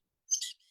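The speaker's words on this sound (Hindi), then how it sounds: "ये पक्षी इतने चींची क्यों कर रहे हैं?" One bird gives a single short, high chirp, faint and brief, with silence around it.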